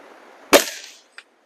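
A single Diana 34 air rifle fitted with a Macarri tune kit fires once: a sharp, close crack with a brief ringing decay, then a faint click a moment later.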